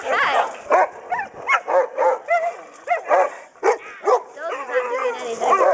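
Neighbouring dogs bark, yip and whimper in a string of short, close, fairly loud bursts while people talk over them.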